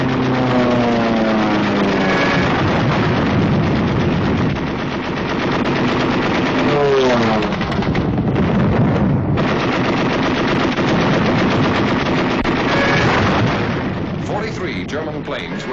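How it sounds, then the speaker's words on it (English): Rapid bursts of WWII German anti-aircraft flak rattle continuously over droning US bomber engines, loud and chaotic, with a voice speaking over the din. "Over all these targets, flak was intense and accurate."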